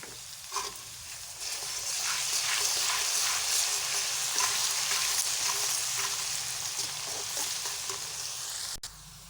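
Onions with garlic and ginger paste fry in a pan, a dense continuous sizzle with soft stirring scrapes close by.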